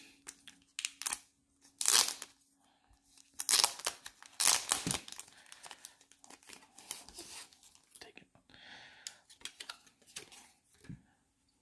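Wrapping torn open on a 1988 Topps Glossy Rookies football card pack, with bursts of crinkling and ripping plastic close up, separated by quieter pauses and some handling.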